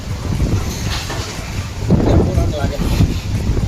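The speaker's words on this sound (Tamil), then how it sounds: "எங்கள் ஊரில் திடீர்னு இப்போ புயல் காற்று வருது" Strong storm wind gusting during a sudden storm in a village at festival time, a steady loud roar with surging gusts and buffeting against the microphone.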